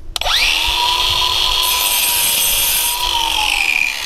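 An angle grinder cuts a notch into a paver stone with a loud, steady, high-pitched whine that starts abruptly and holds close and continuous throughout.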